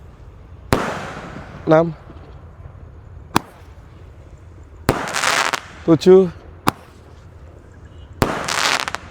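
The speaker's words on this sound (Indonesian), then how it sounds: "menyalakan banyak sekali mercon dan petasan" Firecrackers and fireworks go off in a string of sharp, close bangs, with rising whistles and hissing, crackling bursts between them, while a voice counts aloud.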